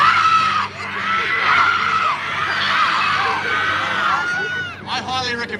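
An outdoor crowd at a Sunday night street performance in Surfers Paradise on the Gold Coast, screaming and shouting loudly and continuously, with a dip partway through before excited yelling rises again.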